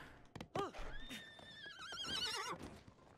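Horse neighing and whinnying in Breath of the Wild, a loud rising-and-falling whinny that carries for about two seconds, with a few hoof thumps early on.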